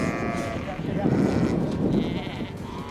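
Pedigree rams in a farm pen let out a drawn-out bleat near the middle, while a voice talks over the flock's noise.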